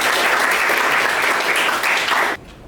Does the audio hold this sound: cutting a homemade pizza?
no